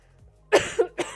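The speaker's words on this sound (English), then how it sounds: "Fun that this is developing into a cough." A person with a developing cold coughs in two or three short, harsh bursts close to the microphone after a moment of near silence.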